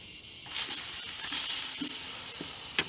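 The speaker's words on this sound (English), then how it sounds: "now I'm going to hit it with some Evo, some olive oil, and we're going to get a nice good sear on them" London broil steaks sear in olive oil on a Blackstone griddle, a steady loud sizzle that jumps up after a quiet first half second, with a few faint clinks of a utensil on the hot surface and no talking.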